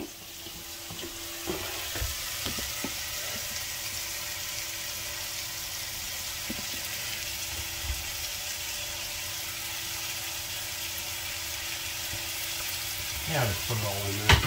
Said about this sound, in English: We're gonna want to sweat this into our meat mixture.